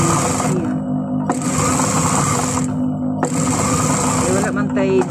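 A single-needle sewing machine stitches a t-shirt in loud, steady motor-driven runs with short pauses between bursts, close by.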